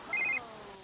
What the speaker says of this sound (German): Ja, sag mal, dieses blöde Telefon.